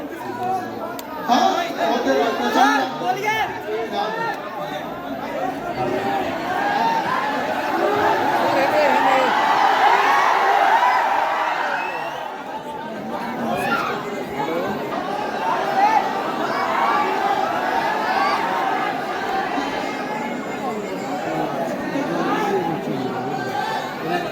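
Dense crowd chatter from a large gathering at Khan Sir's public event in Motihari, a steady murmur of many voices swelling mid-way, with occasional chuckles rising from the mass of talk.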